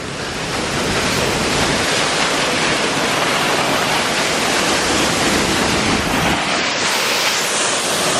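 A waterfall pours down a mountainside, heard as a loud, unbroken rushing roar of falling water, with some wind buffeting the microphone.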